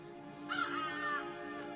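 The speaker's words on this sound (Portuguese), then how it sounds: "Eu tô começando a ficar com raiva dessas aves." Crows in a cartoon give a short, raspy caw, close and clear, standing out briefly over a faint background score.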